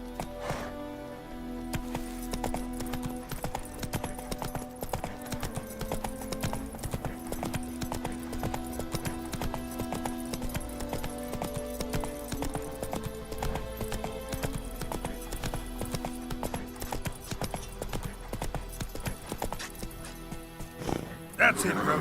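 Roach the horse gallops in The Witcher 3 with rhythmic clip-clop hoofbeats running steadily throughout, under game music and with occasional speech on top.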